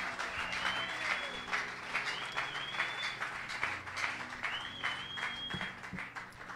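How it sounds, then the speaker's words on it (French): A church congregation claps together in worship at a women's day service, a moderate, continuous patter of hands with faint voices calling out over it. "Let us clap unto the Lord."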